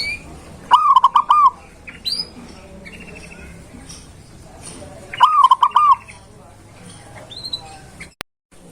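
Cooing from a male zebra dove (perkutut) comes in two separate bursts of warbling, trilled calls, moderately close, with scattered chirps and faint background noise between them.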